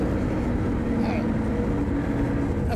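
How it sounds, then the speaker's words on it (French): A Sbarro Turbo S 20 sports car's engine drones steadily as it accelerates on a circuit, a loud, constant low rumble with a rising tonal whine, heard from inside the cabin. "Regardez comme ça accélère, c'est génial."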